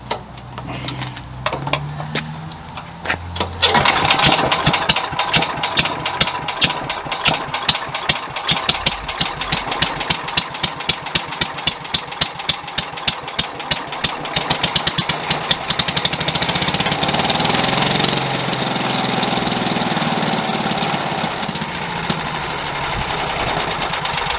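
An MTD 243-650 garden shredder's small engine, started on full choke, catches after a short pull and then runs loud and steady with a rapid ticking beat close by, settling into an even drone.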